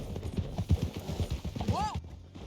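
Horses galloping in a Western video game: rapid rhythmic hoofbeats close by, with a brief whinny-like rising tone near the end and voices speaking over the ride.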